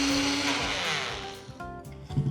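A mixer grinder whirs loudly as it grinds poha and cornflour into fine powder, then stops partway through, leaving a few faint knocks and rattles.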